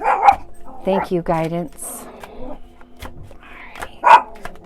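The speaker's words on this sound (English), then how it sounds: "Sorry about my dog barking here." A pet dog barks several times close by, a few sharp yips and woofs mixed with a person talking indoors.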